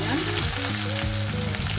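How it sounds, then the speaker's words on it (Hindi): Onions frying in oil in a pan, following whole spices, with a dense, continuous close sizzle and faint stirring, no voices. "ऑनियन को हमें अच्छे से ब्राउन करके भूनना है।"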